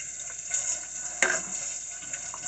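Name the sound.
running tap water washing fingers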